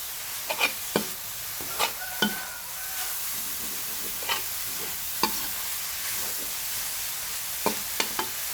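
Crab legs stir-fried with cumin leaves in a home kitchen wok: a soft, steady sizzle under irregular sharp clacks and scrapes of the spatula against the pan, close and moderately loud.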